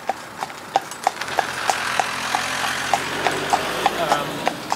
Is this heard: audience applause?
no